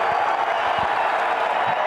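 Crowd noise fills a college wrestling arena during a Big Ten match, a loud, continuous roar of cheering and applause with no break.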